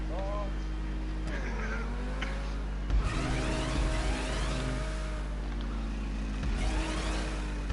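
A car engine in GTA 5 Online revs and accelerates with rising whines and a few thumps, loud and near, while a voice talks over it.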